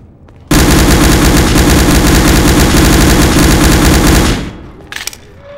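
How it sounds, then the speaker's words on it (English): Sustained rapid automatic fire from a machine gun in a Garry's Mod horror map video game, a loud continuous rattling burst of about four seconds that cuts off abruptly, followed by faint clatter. "Gotta keep that machine gun ready."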